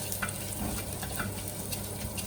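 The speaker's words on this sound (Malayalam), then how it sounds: "പച്ചമുളക് നന്നായിട്ടൊന്ന് മൂത്ത് വരുമ്പോഴത്തേന്" Green chillies frying in a pan for a Kerala prawn curry, a steady close sizzle with faint stirring and no talk.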